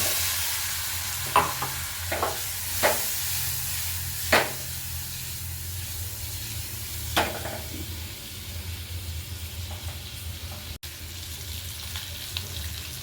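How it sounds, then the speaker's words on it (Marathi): Eggs frying in a kadhai with red chutney, garam masala and salt for an egg biryani, a continuous sizzle punctuated by sharp spatula scrapes and stirring clacks at irregular intervals. "अंडी फ्राय करून घ्यायचं"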